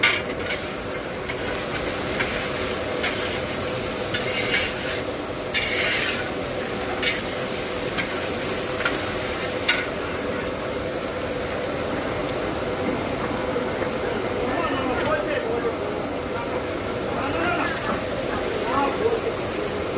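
Ten-kilo batch of fried rice with capsicum being stirred in a large pan, with continuous scraping and sizzling for the whole stretch and people talking over it.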